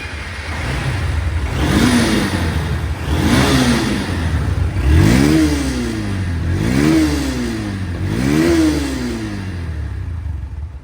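A Honda Hornet motorcycle of 2021/22, a used bike, revs repeatedly: five throttle blips rise and fall in a steady rhythm over a loud idle. The engine is close and no one speaks.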